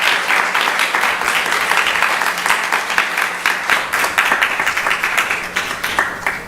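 Loud, sustained applause from a congregation at a Sunday feast class at a temple honoring a guest speaker, with dense rapid clapping that holds steady and pulses slightly throughout.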